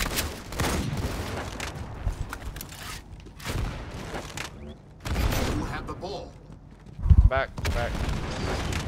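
Heavy booming shots from the Brute Shot grenade launcher in a Halo 2 Anniversary doubles Oddball match on Checkmate, fired repeatedly among other gunfire while players talk over the action.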